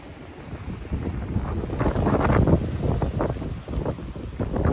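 A storm wind blows hard in Birmingham, England, in February 2022, a steady blustery rumble hitting the microphone up close and building in strength, with gusts swelling toward the end.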